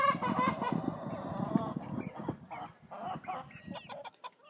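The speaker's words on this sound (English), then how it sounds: "We've got the chickens out here." Chickens in a backyard coop on a spring morning give loud honking, squawking calls up close, followed by scattered softer clucks and chirps with gaps between them.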